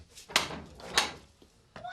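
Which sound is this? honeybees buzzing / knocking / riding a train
knocking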